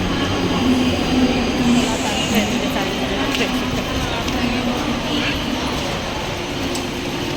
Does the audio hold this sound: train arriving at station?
yes